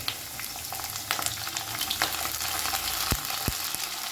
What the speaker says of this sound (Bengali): ভালো করে একটু নাড়াচাড়া করে নেব গ্যাসের ফ্লেমটাকে মিডিয়ামে রেখে